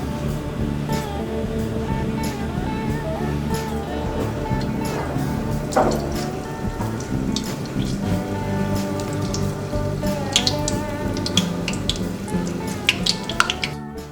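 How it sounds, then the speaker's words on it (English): Donuts frying in a pot of 350-degree oil, a steady dense crackle and bubbling sizzle with scattered sharper pops, close and continuous throughout. "Once we get there, it's time to plop in some of the donuts."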